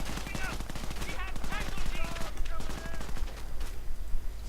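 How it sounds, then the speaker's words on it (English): Rapid bursts of machine-gun and rifle fire on grenadiers in a World War II real-time strategy game, crackling continuously beneath a voice talking throughout. "Grenadiers coming under fire though."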